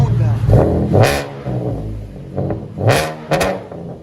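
A 2015 Chevy Camaro V6 with dual exhaust and Vibrant bottle resonators revs in a few sharp bursts, each throttle blip rising and falling over a steady idle rumble, with voices talking nearby.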